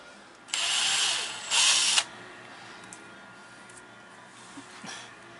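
A power drill bores into wood during boat work on a Skipjack sailboat, with two loud, whining bursts of roughly a second each, the second higher-pitched, followed by quieter workshop clatter.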